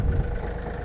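A Yanmar US-324 mini tractor's engine idling while warming up, a low, steady diesel rumble close by with a slight rhythmic throb, heard alone for under a second.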